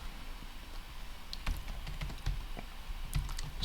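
Light keystrokes on a computer keyboard as code is typed in, a loose run of soft close taps at a low level with no talking.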